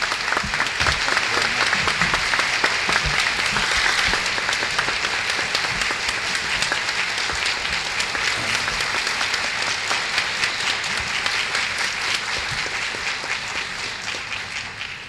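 A large audience breaks into sustained, dense applause welcoming former California governor Pat Brown, loud and steady for the whole stretch with only a slight fade near the end.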